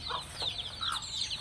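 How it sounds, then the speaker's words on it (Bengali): Baby chicks give a quick series of thin, high peeping chirps, close and fairly steady, with no talking. "এই যে মুরগির বাচ্চা"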